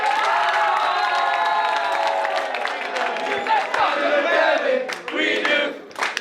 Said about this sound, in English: round of applause, Kevin's going to camp.